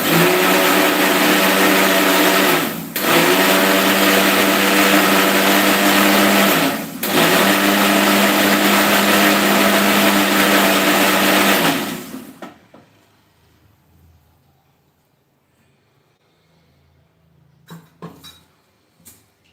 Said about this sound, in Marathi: आता इथं मी मिक्सरला लावलेला आहे आणि आता ते बारीक